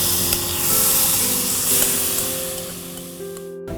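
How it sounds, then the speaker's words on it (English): A mixture of potato, sugar and coconut lands in a hot pan with a broad hissing sizzle that swells and fades over a few seconds, close by, with no talking. "Now we'll put this entire mixture in a pan."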